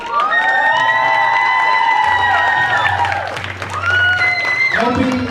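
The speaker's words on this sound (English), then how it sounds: "another round of applause for the models" Audience clapping and cheering for models at a youth leadership summit fashion show, loud sustained applause with whoops and shouts over music, and a voice speaking over the crowd.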